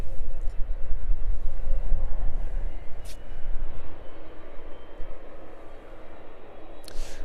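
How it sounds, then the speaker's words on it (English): A Boeing 737 jet departs East Midlands Airport, its loud roaring engine noise rolling and swelling steadily, close by and alone with no talk. "So quite a quick succession of 737s to depart from East Midlands"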